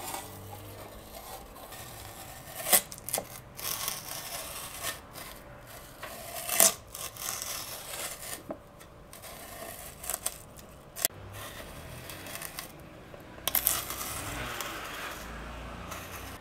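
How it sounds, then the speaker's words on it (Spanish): A raw potato on a skewer is twisted against the edge of a tin can to cut it into a spiral, giving close, irregular scraping and rasping with sharp cutting clicks, and no talk. "Y ahora solo tenemos que girar nuestra papa y que se vaya cortando."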